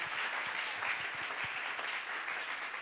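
Church congregation applauding together to acclaim God, a dense, steady wash of clapping hands that holds at even loudness throughout, close and full.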